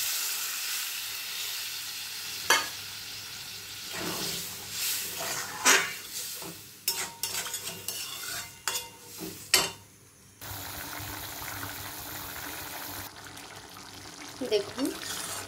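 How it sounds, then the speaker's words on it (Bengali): Hot water is poured into a sizzling chicken mince curry with peas and chickpeas, then stirred, giving close hissing and splashing with intermittent clinks and scrapes of a spoon against the pan. "গরম জল দিচ্ছি।"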